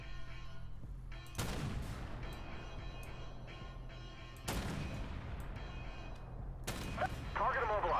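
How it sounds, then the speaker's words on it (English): Advanced Warfare player-versus-player match with three sharp gunfire-like laser blasts, each a sudden broadband burst decaying into a rumbling tail, spaced a few seconds apart over steady game ambience, with faint sweeping electronic tones near the end. "Fire the lasers!"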